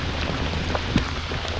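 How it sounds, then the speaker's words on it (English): A cold rainstorm falls on a creek during kayak fishing, a dense steady hiss of rain with a few scattered louder drops. "so we're stuck in the middle of a rainstorm"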